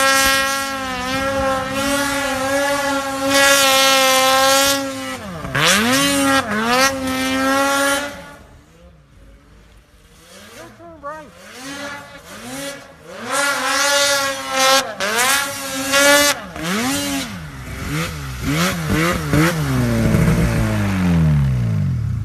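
2018 Arctic Cat M 8000 snowmobiles with Speedwerx Stage 2 modifications ride through deep snow, their two-stroke engines revving hard and rising and falling in pitch as they pass close by, with a short lull midway before the engines roar again.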